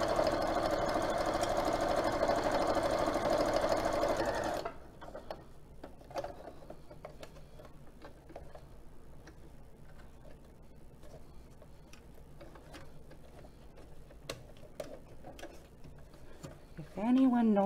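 A sewing machine stitches fabric in a steady, loud mechanical whir for about four and a half seconds, then stops abruptly, leaving faint scattered ticks and small handling sounds.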